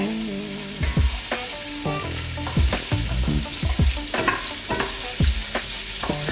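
Onions frying in a pan with a pinch of salt, a steady close sizzle broken by frequent scraping and clicking strokes of a stirring utensil against the pan.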